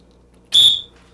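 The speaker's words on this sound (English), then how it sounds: "blow the whistle." Dog training whistle used with a retriever puppy at supper time: one short, sharp, high-pitched blast, loud and close, cutting off quickly in an otherwise quiet room.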